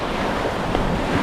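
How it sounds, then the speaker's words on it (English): Rough waves crash and surge against a lake shore under wind buffeting the microphone, a loud, brief, dense roar. "Hopefully you can hear me because the waves are just torrential"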